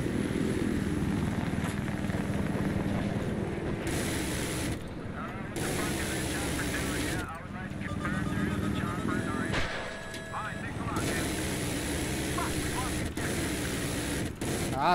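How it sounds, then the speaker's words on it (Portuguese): Helicopter in the video game Battlefield 3, a continuous loud rotor and engine drone with choppy thumping, broken by brief gaps and some gunfire-like bursts as the game mix shifts. "Para infantarias, um helicóptero."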